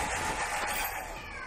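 Cats meow in the Strange Brigade video game, a short bright mewing call heard close and alone over the game's background ambience.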